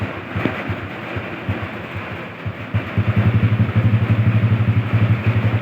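A Honda Kharisma motorcycle with a custom exhaust idles low nearby, a steady loping putter that grows louder and more even partway through.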